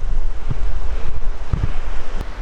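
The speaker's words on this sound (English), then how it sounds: "Hyduck Creek as it flows down into Shadow Lake." Hyduck Creek pours down into Shadow Lake with a steady, full rush of water. The roar is continuous and broadband, mixed with gusty wind buffeting the microphone, and no one speaks.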